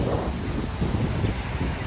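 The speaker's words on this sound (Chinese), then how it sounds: "啊，好大风啊！ 吹埋嚟个海风好凉啊！" Strong sea wind at Shek O beach in Hong Kong roars steadily and loudly across the microphone, with a dense, continuous rumble and possible surf underneath.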